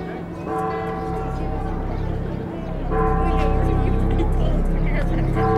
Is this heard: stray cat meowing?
no